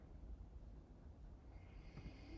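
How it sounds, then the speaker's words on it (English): A dad snores faintly in the next room, a low muffled rumble throughout with a slightly stronger snorting breath near the end. "I'm gonna have to wake my dad up if his snoring gets worse."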